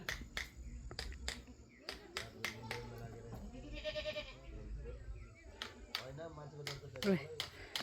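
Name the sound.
goats bleating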